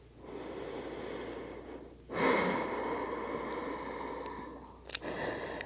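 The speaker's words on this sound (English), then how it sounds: "Try to slow the heart rate down with long, deep breaths through the nose." Slow, deep breathing through the nose during a yoga flow: a long, steady airy inhale, then a louder rush of exhale, with a couple of brief sniffs near the end, close and alone.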